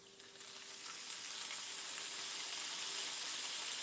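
A pan heating on medium heat during home cooking gives a faint, steady hiss, even and unbroken for a few seconds with no talk.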